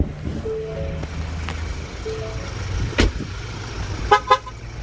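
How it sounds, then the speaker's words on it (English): A 2018 Ford Everest Trend, engine running with the keys out of the car, sounds a few short electronic warning beeps in steady tones over a low engine idle, with a couple of knocks near the end. "So that's just beeping, letting me know that I do have the car running, and I've still got the keys in my pocket as well."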